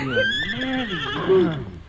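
A wild, unbroken horse whinnies loudly in a radio drama, a long wavering neigh that rises and falls, then breaks into a second shrill burst near the end.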